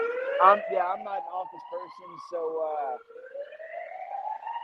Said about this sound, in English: Sorry about the sirens there